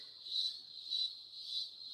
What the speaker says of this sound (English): You love hearing the crickets.